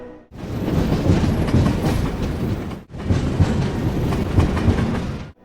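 Train running on rails in a Turkish setting, a loud steady rolling rumble with rhythmic clatter, broken by one brief dip midway before continuing.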